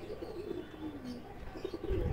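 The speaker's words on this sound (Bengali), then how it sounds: "এগুলো ডিম বাচ্চা করছে এই পায়রাগুলো, ব্রিডিং পেয়ার দেখুন" Pigeons from breeding pairs in a loft coo softly in low, rolling phrases, with faint chirps and steady background noise throughout.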